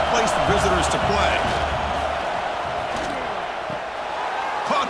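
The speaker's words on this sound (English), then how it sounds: "listen to this crowd noise" Loud, steady roar of a packed college football stadium crowd in College Football 26, an Alabama vs Oklahoma playoff game, swelling and churning continuously under commentary voices throughout.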